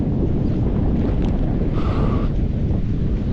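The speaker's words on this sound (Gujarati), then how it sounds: "પવન એટલો બધો છે ને કે આમ દરિયાના ઘોઘવાટાને" Strong wind buffets the microphone on the coast at Ratneshwar Mahadev, a loud and constant roar with the rumble of rough sea waves beneath it.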